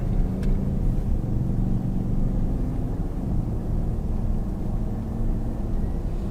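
A car pulling out onto the road, a low, steady engine rumble heard from inside the vehicle, moderate and continuous, with no speech.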